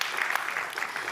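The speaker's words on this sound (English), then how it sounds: "we can clap for that" An audience at a European student startup pitch summit claps briefly in a dense, steady burst, heard over the room's ambience.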